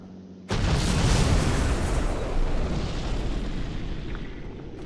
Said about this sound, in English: Skippy now sending some artillery.